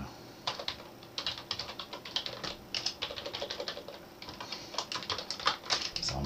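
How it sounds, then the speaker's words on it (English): Rapid keyboard typing, a continuous run of light clicky keystrokes at close range with brief pauses, fairly quiet. "So I'm typing in my email address"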